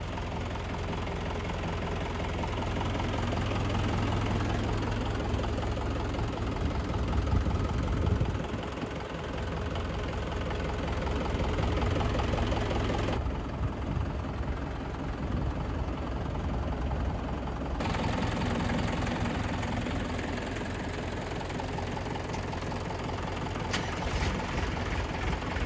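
A 2016 Mahindra Bhumiputra 575 tractor engine running steadily at idle, a low continuous diesel rumble with mild knocking, unchanging over a long stretch with no talk.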